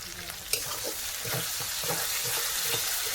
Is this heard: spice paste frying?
yes